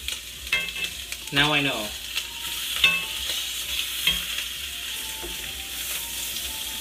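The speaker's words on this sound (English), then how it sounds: "So trying to get a sear on the lamb shanks." Lamb shanks searing in a pan give a moderate sizzle with scattered stirring clinks, while a person speaks briefly over it.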